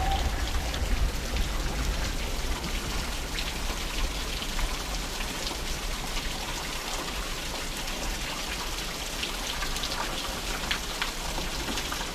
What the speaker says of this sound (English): In the pouring rain.